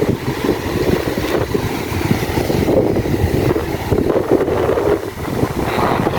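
Heavy surf surges against the Masinloc Baywalk seawall, a dense, steady roar of churning water close by, heavily buffeted by wind rumbling across the microphone.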